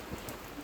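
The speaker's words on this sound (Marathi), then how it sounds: "जोरदार पाऊस पडत आहे" Heavy monsoon rain pours steadily near a coastal village by Arnala fort, a dense, even hiss of falling water with no other sounds.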